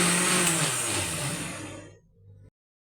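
A kitchen mixer grinder whirs loudly and continuously while blending dry fruit juice, then slows and winds down before cutting off abruptly, leaving silence.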